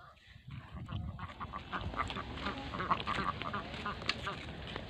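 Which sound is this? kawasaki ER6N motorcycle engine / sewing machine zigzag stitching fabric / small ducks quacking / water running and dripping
small ducks quacking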